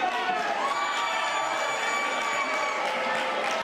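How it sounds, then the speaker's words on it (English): Upset crowd at a school board meeting screaming and chanting at board members as they leave the room, a dense, steady roar of many voices with whoops and shouts throughout. "People who were upset screamed and chanted at board members as they left the room."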